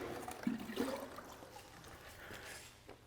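Water trickles and gurgles into the metal pot of an air meter during a concrete volumetric air-content test, uneven splashy pouring near the start that settles into a softer, steady trickle, with no talk.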